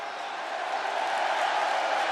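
A large arena crowd in the WWE 2K26 wrestling video game roars in a steady, dense wash of cheering that swells slightly, with no distinct voices rising above it.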